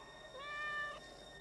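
A single cat meows once, a short rising-and-falling call heard clearly against a quiet background.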